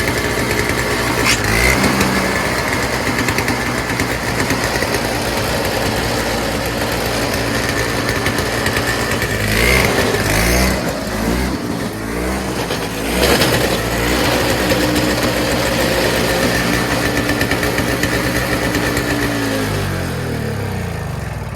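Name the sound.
Toro 7HP R-Tek two-stroke single-stage snowblower engine running, slightly surging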